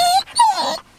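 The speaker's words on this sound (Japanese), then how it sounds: "怖いわお前は急に吠えて。" A dog's short, high-pitched vocalizations, two quick yelping barks close by with a whiny edge.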